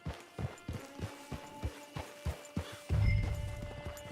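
Horse hooves clip-clop in a regular trotting rhythm in the video game Red Dead Redemption 2, a distinct beat followed by a louder rumbling thud near the end.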